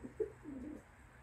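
A racing pigeon coos softly at close range, two short low calls followed by a longer drawn-out coo, all faint against a quiet loft.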